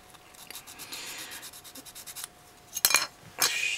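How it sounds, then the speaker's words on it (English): Short rubbing strokes of Tamiya P400 finishing abrasive paper sanding a plastic 1/100 Gundam model part, quiet and close, a soft run of scrapes followed by a few sharper, louder rasps near the end. "this sanding paper happens to be Tamiya's finishing abrasive P400"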